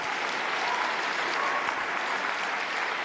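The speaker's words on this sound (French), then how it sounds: "Je crois que vous pouvez les applaudir une nouvelle fois." A graduation ceremony audience at a Masters evening applauding the graduating class, a continuous moderately distant wash of many hands clapping without pause for the whole stretch.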